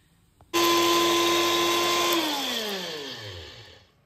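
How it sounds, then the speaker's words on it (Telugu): A mixie grinder whirs loudly as it powders cooled fenugreek and mustard seeds for amla pickle, starting abruptly at full speed, holding a steady high whine, then winding down in pitch as it switches off. "ఆవాలు ఉంటే మిక్సీ పట్టుకోవాలి."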